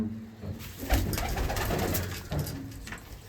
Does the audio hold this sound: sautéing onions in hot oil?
no